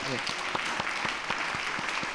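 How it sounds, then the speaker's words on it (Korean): A church congregation applauds its music department at a Sunday worship service, steady, dense clapping from many hands filling the room continuously, with a faint voice underneath. "음악부 우리 격려 박수하겠습니다"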